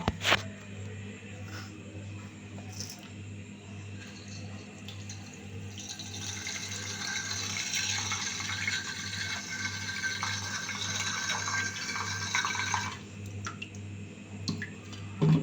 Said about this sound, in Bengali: চালটাকে ধুয়ে নেব।